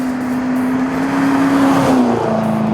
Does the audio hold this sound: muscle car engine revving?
yes